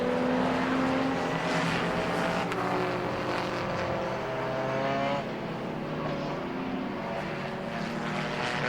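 Race cars, including a Renault Clio, roaring past at Silverstone during a Britcar Trophy Class endurance race, a loud sustained engine drone with shifting pitch as cars pass continuously, no talk.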